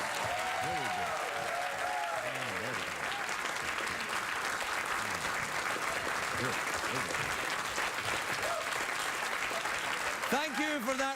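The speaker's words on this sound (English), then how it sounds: "Thank you for that respectful, one would say even royal applause" A television studio audience applauds on a late-night talk show, the clapping dense and sustained throughout, with voices and laughter mixed in.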